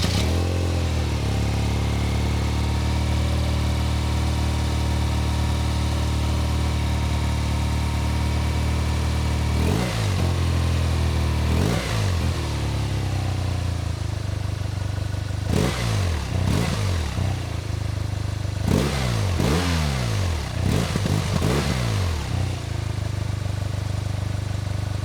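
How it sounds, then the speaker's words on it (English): A 2026 BMW R 12 G/S boxer-twin motorcycle engine idles with a deep, throbbing rumble, and the throttle is blipped several times, sending the revs up and back down. "the vibration and the sound of this Boxer Twin is pretty much why people chase this engine type"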